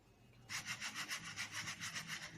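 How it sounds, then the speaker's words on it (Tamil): Wet rice flour being sifted through a sieve, heard as a steady series of soft, rhythmic rasping sweeps that start abruptly and continue close and clear, with no talking. "மாவை கொஞ்சம் நல்லா ஆற விட்டுட்டு அப்புறம் எடுத்து இந்த மாதிரி சலிச்சு வச்சுக்கோங்க"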